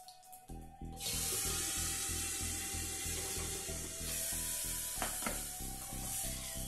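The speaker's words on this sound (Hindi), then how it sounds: "तड़का लग गया" Asafoetida and cumin seeds are tempered in hot oil for a raw papaya curry in a home kitchen. A sudden loud, continuous sizzle bursts in after a brief quiet start and holds steady to the end.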